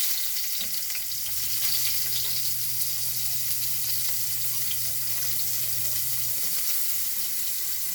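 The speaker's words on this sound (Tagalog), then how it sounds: "Unahin ko guys ihulog ay ang sibuyas." Onion sizzles steadily in hot oil in a pan, a close, continuous frying hiss with a faint low hum and no talking.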